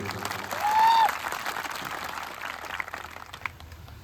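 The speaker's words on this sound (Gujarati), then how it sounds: "એકવાર આપણે જોરદાર તાળીઓથી વધાવી દઈએ" Crowd applause rises at an outdoor political rally in Garudeshwar, Gujarat, a dense burst of clapping that peaks near the start and then thins gradually over several seconds, with a brief tonal sound near the opening.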